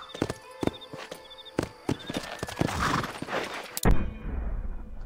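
Clip-clop hoofbeats of a black-brown horse galloping in the Red Dead Redemption video game, a rapid rhythmic pounding with a brief whinny, ending in a sharp loud impact, no talking.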